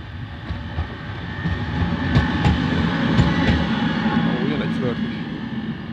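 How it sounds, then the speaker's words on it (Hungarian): Train rolling through a large rail yard, a loud continuous rumble with metallic clatter and squeal from the wagons, while someone talks over it. "Itt most pont jön egy vonat is."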